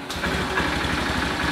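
A Honda Beat scooter engine runs at idle, a short, steady low putter with a regular pulsing beat, close and alone.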